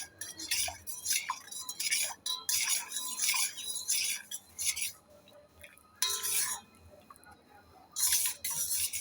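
A metal spoon stirs sugar into freshly filtered tea in a cup, giving bursts of quick ringing clinks against the rim and side, pausing between rounds, close and clear in a quiet kitchen.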